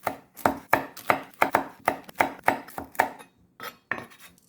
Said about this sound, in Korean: 청양고추도 어슷어슷하게 이렇게 길게 사선으로 꼭 썰어줍니다